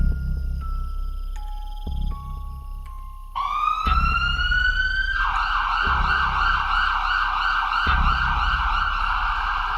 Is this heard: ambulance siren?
yes